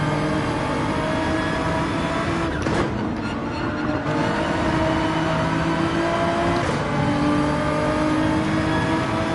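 A Nissan Skyline races around the Interlagos circuit in Gran Turismo 7, its engine droning steadily and loudly throughout with shifting revs, a brief dip in the middle, and no voices.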